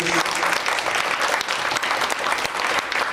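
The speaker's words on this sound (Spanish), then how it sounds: "un aplauso para todos ustedes" Steady applause from a gathered audience at a meeting, a dense wash of clapping that holds at an even level throughout, moderately distant and without talk.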